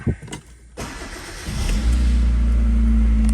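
A 2004 Hyundai Accent engine, just fitted with a new clutch, cranks and catches after a short gap, then settles into a loud, steady idle with a deep rumble near the microphone.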